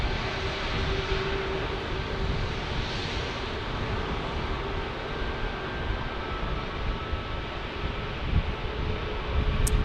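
A United Airlines passenger jet at San Diego airport produces a steady, broad engine roar that fills the air throughout, loud and continuous with no voices.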